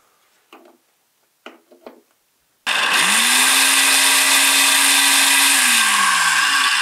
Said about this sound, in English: What about a big old, just normal house blender?